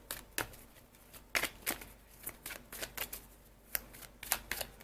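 Tarot cards are shuffled by hand in a quiet room, making a series of crisp riffling bursts and soft taps at an uneven pace, close and clear with no talk.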